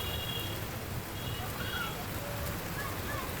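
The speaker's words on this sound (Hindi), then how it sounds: "तो रुड़की में भी तेज बारिश देखने को मिला" Heavy rain pours down in Roorkee, a steady, dense hiss of downpour on surfaces that stays loud and unbroken throughout, with no voices.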